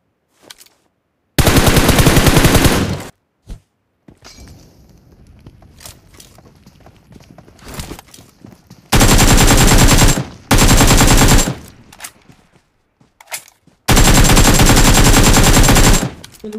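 Bursts of automatic gunfire in the BGMI (PUBG Mobile) video game, loud and close, with four long sustained volleys separated by quieter gaps of shuffling and movement, and no talking.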